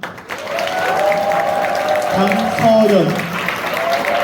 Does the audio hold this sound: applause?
yes